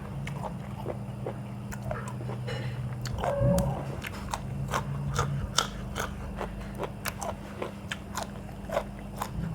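Someone bites and chews a crispy golden apple snail salad up close, sharp crunches repeating in an uneven rhythm over a low steady hum.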